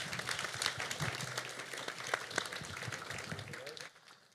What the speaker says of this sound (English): Let's give applause one more time.